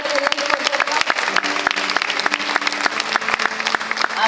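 A church congregation claps together in sustained, dense applause, steady and close throughout with no break.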